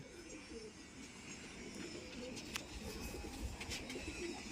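Punjabi pigeons coo softly and continuously at a moderate distance, a low murmuring layer with a few brief higher chirps and faint background noise, no voices.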